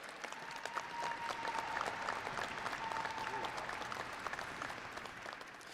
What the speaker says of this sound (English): sharing a round of applause